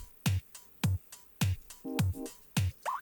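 Arcade-style full drum kit loop sample with the low end filtered out: crisp, punchy hits in a steady rhythm with small chirpy electronic blips between them.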